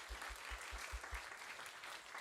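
A church congregation at a revival service claps together, soft and somewhat distant, with a run of rhythmic low thumps early on beneath the diffuse patter of hands.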